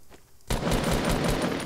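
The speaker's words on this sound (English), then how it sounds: "Now they're shooting at me." Rapid bursts of gunfire in the Fortnite Battle Royale video game erupt loudly after a brief quiet moment, with repeated shots rattling close and continuous to the end.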